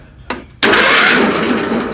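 A John Deere LT 111 lawn tractor engine cranks with a short first burst, then the starter grinds loudly and steadily close up with no talking.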